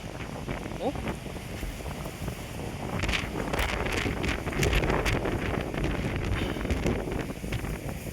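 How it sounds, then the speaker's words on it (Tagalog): Strong wind on a hiking trail buffets the microphone with a loud, continuous roar, gusting harder midway, while voices talk faintly underneath. "Grabe lakas ang hangin."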